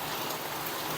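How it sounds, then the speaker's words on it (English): Steady rain falling outside, a dense, even hiss of drops with no breaks and no voices over it. "if you hear rain, it's because it's raining outside"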